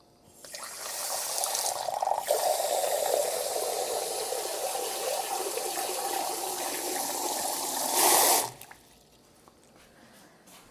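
Water pours steadily into a bag in a continuous rushing stream for several seconds, swelling briefly louder near the end before stopping abruptly.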